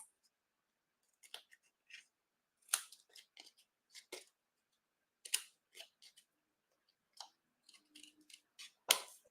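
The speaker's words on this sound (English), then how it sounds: "I'm going to snip off my excess" Scissors snip off excess material in a quiet room, roughly a dozen short, crisp cuts and clicks scattered irregularly, close up, with the last snip the loudest.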